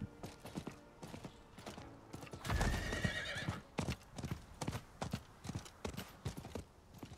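Horse hooves clip-clop steadily in a video game, Diablo IV, with a loud close whinny rising midway before the hoofbeats resume in an even rhythm.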